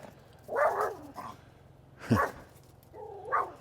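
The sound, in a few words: dog barking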